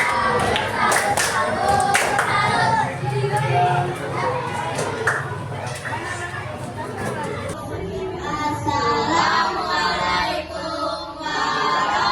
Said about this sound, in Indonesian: Oke, kasih tepuk salut.